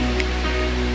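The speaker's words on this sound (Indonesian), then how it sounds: "Terdapat air terjun lagi." A waterfall about 30 to 40 meters high flows in a steady, loud, dense rush of water close by, with no speech.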